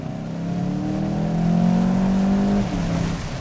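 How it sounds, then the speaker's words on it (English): A 2021 Volkswagen Jetta GLI engine revs up hard under acceleration after a downshift, a loud rising drone that climbs steadily for a couple of seconds before dropping sharply as the gearbox upshifts on its own. "If I downshift a second and I put my foot down,"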